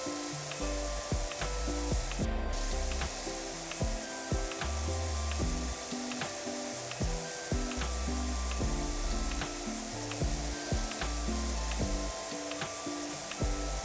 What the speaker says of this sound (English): I'm gonna switch to green for that distance spraying.